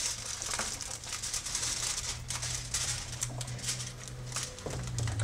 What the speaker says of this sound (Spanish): I like to use aluminum foil because it gives it that nice shiny look. And it's easy to bend all over the place.